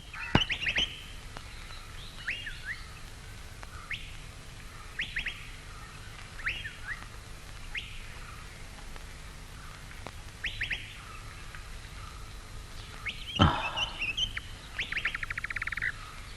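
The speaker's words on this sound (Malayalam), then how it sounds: "കിളികളുടെ ശബ്ദം" Birds chirp and sing in a quiet natural setting, with short bright calls repeating every couple of seconds over faint background hum and a louder burst of calls near the end.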